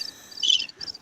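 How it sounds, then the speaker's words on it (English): Crickets chirp loudly and steadily for about a second, a bright trilling chorus that swells in the middle, with no talking over it. "Turn the damn crickets off."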